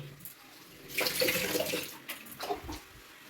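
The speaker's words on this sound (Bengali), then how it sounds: "দেখো কর্তামশাই স্নান করছে গরম জল হচ্ছে" Hot water splashing and pouring as someone bathes, in uneven bursts of rushing water with short gaps between pours, fairly close.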